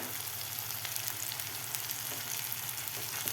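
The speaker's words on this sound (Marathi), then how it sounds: "व्यवस्थित आपल्याला हे मसाले खालच्या टोमॅटो आणि कांद्यामध्ये व्यवस्थित मिक्स करून घ्यायचे आहेत" Spices stirred into tomato and onion frying in a pan give a steady, close sizzle with faint stirring scrapes throughout and no speech.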